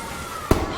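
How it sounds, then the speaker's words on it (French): A dynamite blast in the horror video game FNAF Into the Pit goes off as a single sharp, loud bang with a short rumbling tail, set against low ambient game sound. "ça c'était une dynamite, c'était pas de la. C'était pas des pétards"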